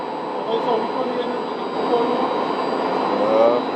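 Engines run steadily in the machine room of a farm's automated biogas plant, a constant droning hum with a mechanical whine, heard under voices talking nearby.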